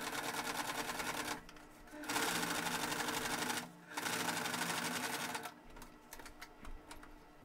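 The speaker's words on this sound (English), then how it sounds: "we're just gonna sew right across the old stitching" Domestic sewing machine stitching across an old seam to tack down a pants hem, a loud steady whir broken by short pauses, then lighter ticking as it slows at the end.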